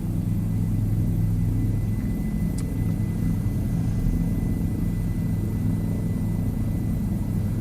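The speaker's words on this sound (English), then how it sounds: "At least this is a helicopter." Helicopter in Microsoft Flight Simulator 2020 video game, a steady, loud rotor and engine rumble that drones on continuously without breaks and without any talking.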